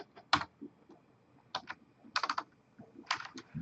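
Keys clatter on a computer keyboard as a PowerShell command is typed, quiet, close clusters of quick keystrokes separated by short pauses, with no voices.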